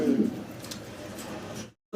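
Pigeons at a breeding farm give a brief, low, close coo near the start, followed by quieter soft murmuring before the sound cuts out.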